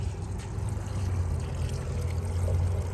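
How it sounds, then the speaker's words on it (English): Water poured onto a small cluster of potted palms in a yard, a soft continuous splashing and trickle under a low steady hum, moderately quiet and unbroken throughout. "Water the little cluster of palms I have in this pot."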